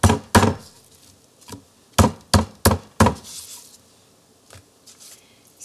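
Pork cutlets being pounded thin with a meat mallet for Hungarian fried cutlets, a series of sharp, close thuds in uneven clusters with short pauses between.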